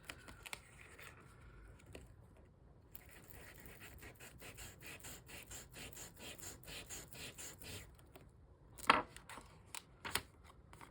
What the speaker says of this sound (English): I'm going to hit it in a couple places with the sanding disc.